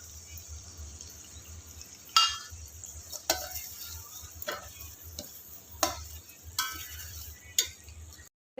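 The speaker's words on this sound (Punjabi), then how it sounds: "ਮਸਾਲੇ ਜਿਹੜੇ ਅਸੀਂ ਐਡ ਕਰਕੇ ਮਿਕਸ ਕਰ ਲਏ ਆ" Spices being stirred into oil for amla pickle: a spoon scrapes and knocks against the vessel in about six sharp, evenly spaced strokes over a faint background hum.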